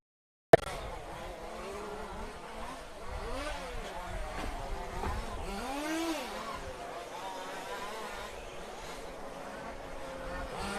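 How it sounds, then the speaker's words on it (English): RC off-road racing trucks at the EFRA large-scale off-road European championship in France, several running together on track, their whining engines rising and falling in sweeping pitch over a steady crowd-and-PA backdrop, with a voice talking over them. "three trucks all rammed together now out on track"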